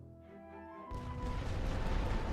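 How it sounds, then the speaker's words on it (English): Artillery rolling barrage in The Great War: Western Front, a World War I setting: a dense, continuous rumble of shelling that swells up abruptly and keeps roaring loud and steady, with no talk over it. "Rolling barrage"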